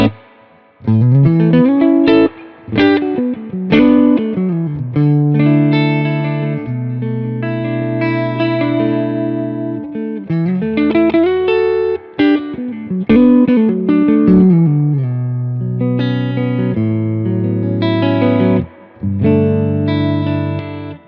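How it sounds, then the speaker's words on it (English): Electric guitar played through a MESA/Boogie Mark IIC+ amplifier with its onboard spring reverb and delay switched off, a rich sustained chiming tone with chords and melodic lines ringing out loud and continuous, no talking. "I'm going to turn the delay off so we can just hear the amp and then just the onboard spring reverb there"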